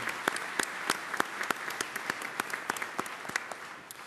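Audience at a high-speed rail event in Illinois gives a round of applause: a modest crowd's claps, with several sharp, distinct hand-claps standing out, keep a brisk, uneven rhythm for about four seconds.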